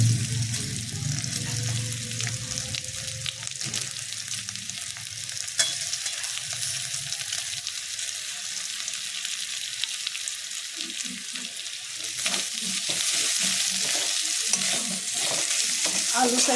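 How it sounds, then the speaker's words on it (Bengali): Boiled potatoes, broken up by hand, fry in a pan with ginger while being stirred for vegetable chops. A soft, continuous sizzle runs under scraping stirring strokes, and the stirring grows busier and louder toward the end. "আলুটা একটু ভাজা ভাজা হোক।"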